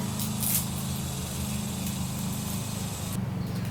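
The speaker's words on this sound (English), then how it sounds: "Sorry, somebody's mowing next door." A lawn mower runs next door, a steady droning engine hum with a buzzing whine, moderately loud and continuous with no voices over it.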